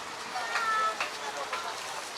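Heavy rain falls outdoors as a steady, dense hiss of drops striking surfaces, even and unbroken for the whole stretch.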